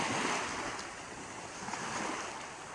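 Heavy sea waves pounding during Typhoon Opong, a continuous roaring wash of surf with strong wind noise buffeting the microphone, steady and loud throughout with no voices.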